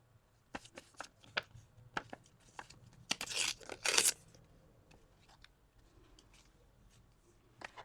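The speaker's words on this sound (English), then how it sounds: "I like to tear whenever possible because tearing is easier to blend." Paper being torn by hand while making art cards: a series of short, close rips and crinkles, with a longer, louder stretch of tearing in the middle.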